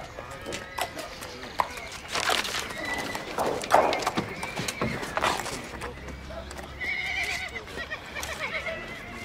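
Horses clip-clopping on a wartime estate, with hooves tramping and a neigh rising clearly amid the movement, fairly close, and steady trampling continuing throughout.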